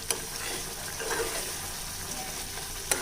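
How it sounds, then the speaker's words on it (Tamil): Thick java plum jam is stirred in a heavy-bottomed pan, giving a steady soft bubbling sizzle with faint scraping and a couple of light utensil knocks, close up with no talking. "இப்போ இந்த ஸ்டேஜில் நம்ம கைவிடாமல் கிளறிக்கணுங்க."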